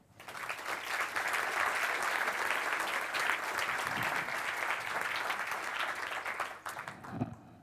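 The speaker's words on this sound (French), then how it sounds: "je vous propose de les applaudir." An audience at a leadership awards ceremony breaks into sustained applause, rising quickly to a full, even roar of clapping that holds steady before tapering off near the end.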